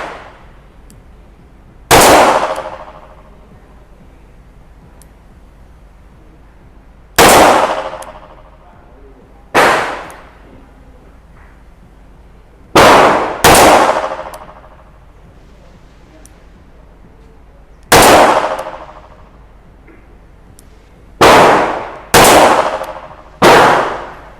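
Shots from an old S&W Model 51 handgun fired at a target on a range: eight sharp, loud reports spaced irregularly over about twenty seconds, a couple of them in quick pairs, with no talking between them.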